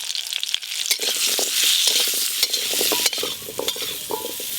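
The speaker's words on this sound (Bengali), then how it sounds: "আমরা চাটনির জন্য ফোড়নে 5 ফোড়ন দেব।" Bengali five-spice tempering crackles in hot mustard oil for an amra chutney, a loud, dense sizzle that runs throughout, with rapid scraping and clicking from stirring.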